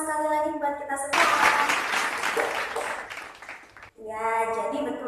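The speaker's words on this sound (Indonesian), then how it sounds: "Boleh tepuk tangan sekali lagi buat kita semua." A class of primary school pupils claps together in a short burst, loud and dense, framed by a teacher's voice talking before and after.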